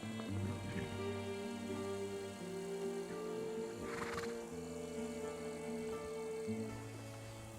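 A horse neighs and whinnies in a long, close, wavering call with a few shorter snorting sounds and faint hoof movement over a quiet background.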